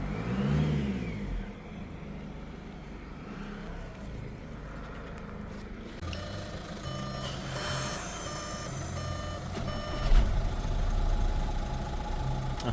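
An Audi A1 engine starting for the first time after a timing belt and water pump replacement, revving up and settling into a steady idle, with repeated reversing beeps sounding over the running engine.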